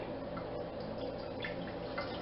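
Beet water is poured for pickling, a steady close stream of liquid splashing and trickling into a container, continuous for a couple of seconds with no talk.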